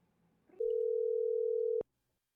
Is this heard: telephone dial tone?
yes